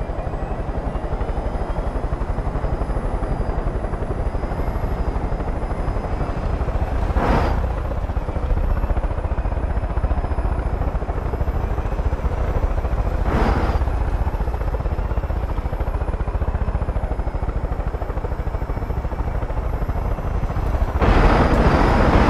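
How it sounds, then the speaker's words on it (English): Helicopter in the video game Far Cry 5 droning loud and steady with a thick rotor chop throughout, close and constant, with a few brief bursts of louder noise breaking through. "Your helicopter's still fucking going"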